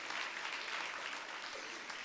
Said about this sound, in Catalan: Un altre aplaudiment perquè els catalans aquí ho donem tot.